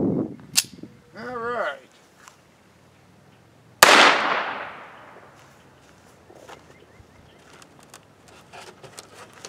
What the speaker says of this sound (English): So plastic gallery ammo will go through two surfboards.